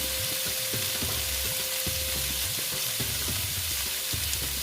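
Mixed vegetables fry slowly in a pan with a constant loud sizzle, while a utensil scrapes and stirs now and then underneath; no one speaks.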